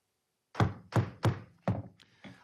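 A wooden gavel strikes a block to open a Greenbelt City Council meeting: four firm, evenly spaced bangs, then a fifth and a sixth lighter tap, close and loud in a quiet chamber.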